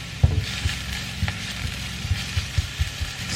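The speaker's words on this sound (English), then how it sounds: "So let's saute our onion." Onion sautés in extra virgin olive oil, giving a soft continuous sizzle with a string of light, rhythmic clicks and taps from stirring.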